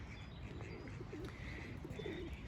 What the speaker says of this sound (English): So these pigeons rather like it because of the feeding that we do here.